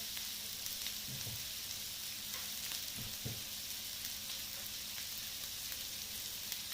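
Red onions fry in a pan, giving a steady, even sizzle throughout, with a couple of faint low knocks from a utensil and no talking.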